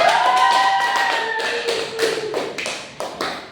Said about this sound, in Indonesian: kita kasih apresiasi untuk kita semua dengan tepuk tangan